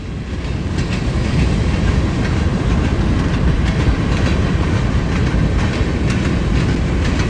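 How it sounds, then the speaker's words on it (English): A Union Pacific train rolls steadily past on the track, a continuous loud rumble with rhythmic clickety-clack of wheels over rail joints, close by throughout. "as evidenced by the train speed as I paced it"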